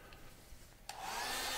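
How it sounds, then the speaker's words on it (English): A hair dryer drying paper prepared for a gum over platinum print starts up partway through, a steady close airy whoosh that holds to the end after a quiet lead-in. "with a hair dryer,"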